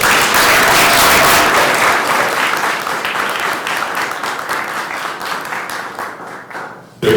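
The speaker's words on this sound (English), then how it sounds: "How about a round of applause for all of us?" Audience applause at a 2017 spelling bee, a dense steady wash of many hands clapping that starts loud and gradually thins and fades before a brief burst at the very end.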